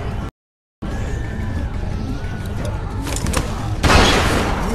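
Shotgun fire in The Walking Dead: 400 Days during an escape from a prison bus, heavy booming blasts over constant low background noise, with a brief silent gap near the start and a louder crackling burst toward the end.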